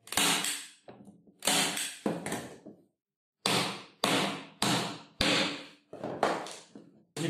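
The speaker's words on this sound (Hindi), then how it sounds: "आप यहां पे ये कील लगाएं, ठीक है, ये इसके साथ आप नॉर्मल छोटे कील भी लगा सकते हैं" A hammer drives small nails into the corner of a wooden canvas stretcher frame, giving about nine sharp, close knocks in an irregular rhythm with short gaps between them.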